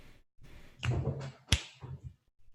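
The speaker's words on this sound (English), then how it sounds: "Why am I snapping my fingers?" Sharp finger snaps during a live coding and keyboard music session, a few crisp clicks spaced irregularly, with one especially strong snap standing out against soft background sounds.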